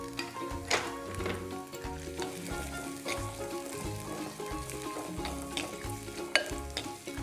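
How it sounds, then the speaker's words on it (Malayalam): Small onions frying in hot coconut oil crackle with a loud, continuous sizzle, close up, with repeated scrapes and clinks of stirring throughout. "അപ്പോൾ നമ്മൾ കുറച്ച് ചെറിയ ഉള്ളി ഇതിലേക്ക് ഇട്ട് കൊടുക്കുകയാണ്."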